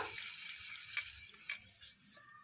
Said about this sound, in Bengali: সুজিটা ঢাকনা খুলে একটু ভালো করে আবারও মিশিয়ে নেব